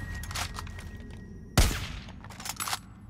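Gunfire in Far Cry 6 strikes a burning truck, one sharp loud blast near the middle standing out over a steady bed of crackling game noise, with bursts of shots before and after.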